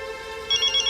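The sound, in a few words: telephone ringing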